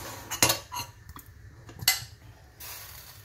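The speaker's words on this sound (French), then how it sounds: "Je mélange bien." A spoon scrapes and clanks against a pot while chili con carne is stirred, a few distinct metallic knocks and scrapes, close and fairly quiet.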